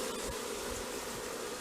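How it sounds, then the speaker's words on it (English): A dense, steady drone of many bees buzzing around an open beehive during an inspection, loud and close, with no pauses. "Shoo this lot of bees away"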